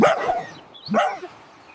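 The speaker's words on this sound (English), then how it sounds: "Bark" A dog barks twice in quick succession, close and fairly loud, with a short gap between the two sharp barks.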